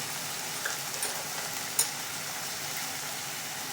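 Spices stirred into an egg mixture in a pan for an egg roll, a soft steady sizzle with faint scraping and one brief clink, close and quiet with no talking.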